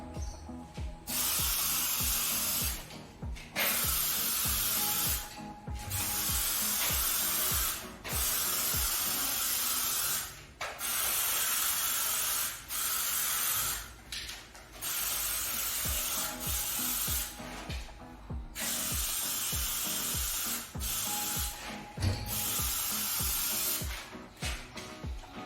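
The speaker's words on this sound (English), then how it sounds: "So here we go, a quick test on the window, it's spraying well," A paint sprayer spraying a window hisses in repeated bursts of several seconds each, separated by short pauses, loud and close with a steady mechanical hum beneath.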